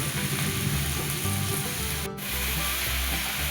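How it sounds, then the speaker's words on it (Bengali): Chopped red amaranth leaves sizzle in hot oil with chopped onion and green chilli, a steady, loud frying hiss with soft stirring scrapes and a brief break midway. "কিছুটা ভেজে আসার পর কুচনো লাল শাকগুলো দিয়ে দিল।"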